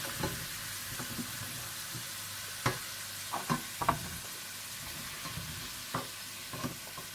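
Potato pieces fry in oil with a constant low hiss and bubbling, marked by scattered light taps and clinks of a utensil in the pan.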